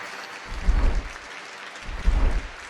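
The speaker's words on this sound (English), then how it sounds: "Another round of applause for him on the way out the door." Two bursts of applause, each clapping swell rising and fading, with a short quiet gap between them.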